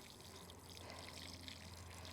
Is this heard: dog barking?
no